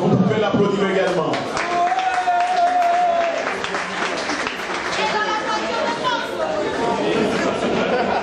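Crowd applause and clapping for the co-driver of car 00 at the Ronde du Nord rally prize-giving in Morne-Rouge, Martinique, steady and fairly loud throughout, mixed with chatter and a voice over the top.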